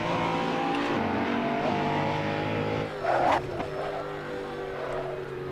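Koenigsegg One:1 engine howling at high speed in Assetto Corsa on the Nordschleife, a sustained loud tonal drone with a brief burst of tire or gear noise midway.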